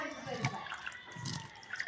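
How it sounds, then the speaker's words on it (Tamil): Water is poured from a bucket onto a layer of salt and sand packed around a GI earth rod, giving a soft, faint splashing trickle in short bursts. "இப்போ தண்ணி ஊற்றுறோம்"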